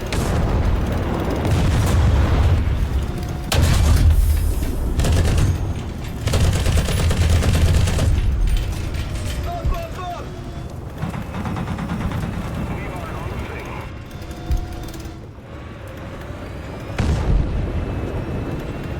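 An M1 Abrams tank's 120mm gun fires in a War Thunder battle, heard as loud heavy blasts and rumbling gunfire over steady battlefield noise. A person keeps talking throughout, and sharper booms stand out near the start and toward the end.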